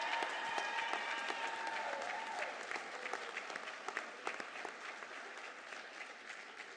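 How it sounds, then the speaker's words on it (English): Crowd applause for graduates at a winter graduation ceremony, a broad, sustained ovation of many hands that slowly thins, leaving scattered individual claps toward the end. "one more giant round of applause for these official graduates."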